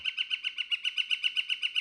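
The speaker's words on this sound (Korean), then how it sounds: "옐로우 셰프티드 플리커도 텃세인 딱따구리인데 비교적 큰 종에 속합니다." A yellow-shafted northern flicker, a fairly large resident woodpecker, gives a rapid, steady series of about a dozen even, high calls, clear and alone without any talk.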